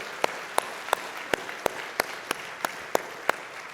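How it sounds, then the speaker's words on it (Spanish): A church congregation claps in a slow, steady rhythm, about ten sharp distinct claps spaced evenly over a soft background wash. "Dale fuerte el aplauso al Señor."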